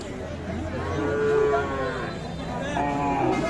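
Bull calves and cattle at a livestock market low as one loud, drawn-out moo swells close by over faint background murmur.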